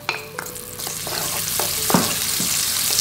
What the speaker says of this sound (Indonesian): Kita goreng bawang merah sampai harum.